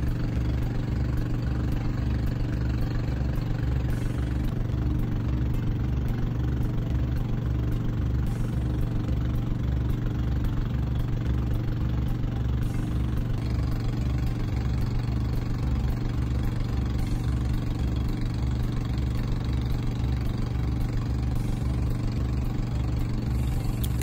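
A boat's engine drones on a sea crossing from Zamboanga City toward Minis Island in Sulu, a loud, steady low throbbing that pulses evenly and continuously, with no talking over it.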